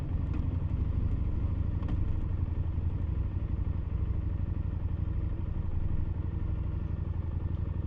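A Husqvarna Norden 901 motorcycle's engine runs steadily at low revs as it pulls into a driveway, a close, continuous rumble with a faint clatter and no talking.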